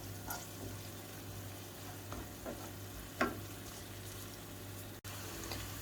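Onions fry gently in a pan, a faint steady sizzle with a few soft stirring scrapes and one sharp clack, with no voices.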